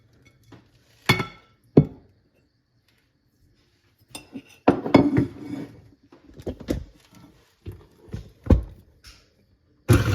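Onion greens and a teaspoon of black pepper being mixed in a bowl for a holiday appetizer: sharp utensil clinks and scrapes come in irregular bursts, close by, separated by short quiet gaps.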